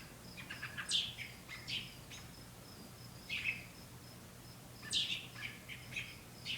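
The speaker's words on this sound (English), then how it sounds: "There's mommy bird." Bird chirps sound outdoors in short bursts spread across the clip, over a steady background hum, with no talking.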